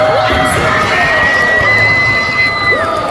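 A loud crowd cheers and whoops at a Cookie Run: Kingdom 4th anniversary stage event, with rising shouts and excited voices, close and energetic throughout.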